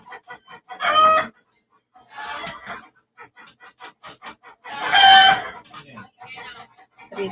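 A flock of home-kept chickens gives a run of quick clucks, with two louder, drawn-out rooster crows standing out among them, all nearby and with no one talking.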